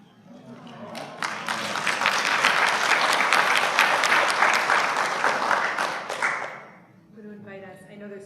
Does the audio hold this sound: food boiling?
no